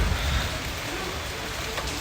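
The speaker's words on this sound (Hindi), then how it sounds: "जब बारिश आई है ना, काफ़ी सुकून सा लेके आई" Rain falling during hot weather after a long spell of heat, a steady broadband hiss of drops holding level throughout, close and moderately loud with no talk over it.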